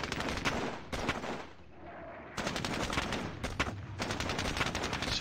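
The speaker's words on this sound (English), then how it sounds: "let's just fire at some turn to get these guys pinned" Rifle fire from an infantry squad in the war video game Squad Battles, with dense bursts of close shots in rapid volleys, a brief lull near the middle, then sustained firing again.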